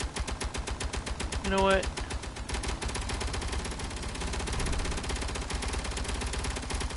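Rapid automatic gunfire in a video game, a continuous loud stream of shots throughout, with someone briefly speaking over it early on.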